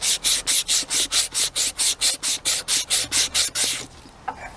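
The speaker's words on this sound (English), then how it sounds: "I just take a piece of sandpaper like this." Sandpaper rubbed by hand on a part of a Murray lawnmower under repair: about sixteen steady, evenly paced rasping back-and-forth strokes, close and loud, then stopping with a small knock near the end.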